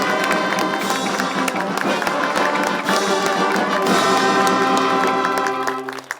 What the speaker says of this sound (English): Let us continue clapping, ladies and gentlemen, for the National Defense University